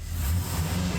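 A Chevy Silverado's 6.0L V8 revs just after an injector replacement, giving a steady, close, low engine rumble that holds through the short stretch with no voices.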